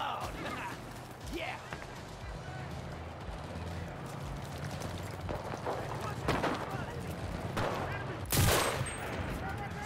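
Bursts of video game gunfire crack repeatedly amid a busy battle, with scattered shots and rapid volleys, one louder blast near the end, under ongoing talk and background noise.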